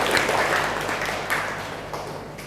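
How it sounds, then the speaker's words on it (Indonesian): A classroom audience at a university teaching session claps in a dense, steady burst that thins slightly toward the end, close and fairly loud with no talking. "Beri tepuk tangan untuk Hakim."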